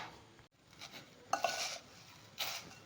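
Aval fry with cardamom powder being mixed in a pan: a few soft scrapes and light metallic clinks of a spoon against the pan, fairly quiet with brief pauses between strokes.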